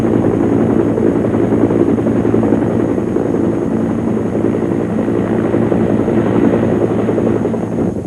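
A WW2-era helicopter in flight over rugged terrain, its rotor and engine a loud, steady, continuous drone with a rhythmic chop throughout, close and unbroken.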